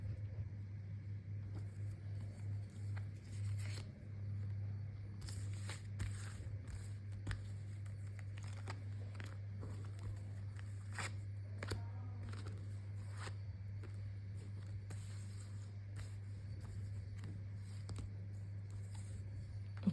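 Tarot cards are drawn and handled, giving soft scattered taps, shuffles and slides over a constant low electrical hum, fairly quiet and close.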